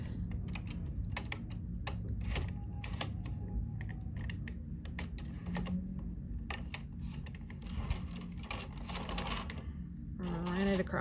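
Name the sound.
knitting machine carriage moving across needles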